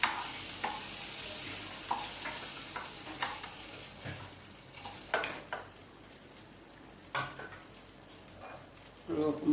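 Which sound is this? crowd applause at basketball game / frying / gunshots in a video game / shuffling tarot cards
frying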